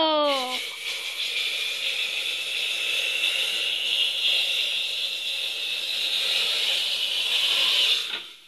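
Hot tadka poured into a dish sizzles loudly after a brief sliding tone at the start, a bright steady hiss that holds for several seconds before cutting off sharply.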